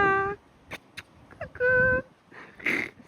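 A young cat at a horse stable meows twice, clear tonal cries near the start and again after a pause, with faint rustling and a soft voice toward the end.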